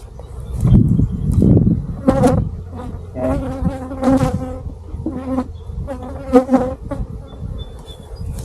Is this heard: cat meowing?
no